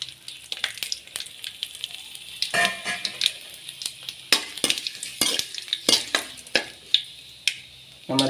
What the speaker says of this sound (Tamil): கடுகு பொரிஞ்சதும் பச்சை மிளகா சேர்த்துக்கணும்.